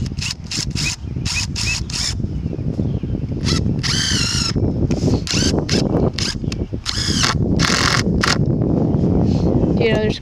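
A power drill drives screws into a wooden garden arbor in repeated short bursts of whining, squealing rotation between pauses, heard close under near-continuous talking and outdoor handling noise.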